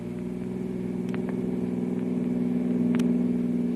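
Steady car engine drone with a low, even rumble from vehicles racing along a road in a radio drama, growing slightly louder over a few seconds.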